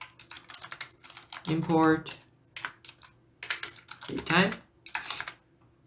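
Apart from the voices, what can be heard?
typing on a computer keyboard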